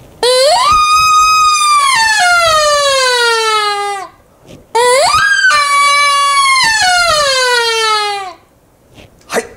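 A hunting deer-call whistle blown in two long, loud, wavering calls, each rising to a high sustained pitch and then sliding downward, with a short gap between them and quiet at the end.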